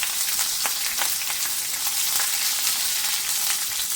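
Chopped garlic sizzles and crackles steadily in hot oil for a Karnataka-style carrot, beans and potato palya, a dense bright frying hiss with small pops, close and even throughout, no talking.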